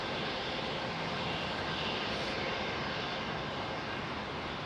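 A British Airways Airbus A350-1000 departs Heathrow bound for Accra, its jet engines producing a loud, steady, broadband roar that fills the whole clip without letting up.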